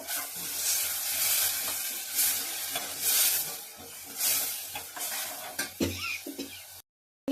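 Spice paste sautéed in a pan with a little water and salt, hissing and sizzling loudly while a utensil scrapes and stirs in bursts, with clinks of metal near the end.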